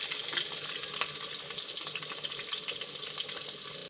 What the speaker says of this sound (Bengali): প্রথমে একটি পাত্রে 2 টেবিল চামচ তেল দিয়ে দিচ্ছি পেঁয়াজ কুচি, রসুন কুচি ও কাঁচামরিচ কুচি।